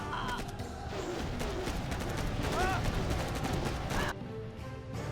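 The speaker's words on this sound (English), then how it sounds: "Artillery now from Size." Artillery fire in a real-time strategy game, a dense clatter of booming impacts and crashing explosions mixed with game effects and music, steady and loud throughout before thinning slightly near the end.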